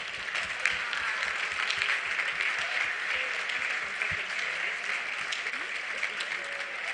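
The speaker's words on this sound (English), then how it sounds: "let's all rise up with a massive, massive round of applause" An audience at a youth dialogue event in Cape Coast breaks into sustained applause for several seconds, with thick, even clapping and a little crowd noise mixed in.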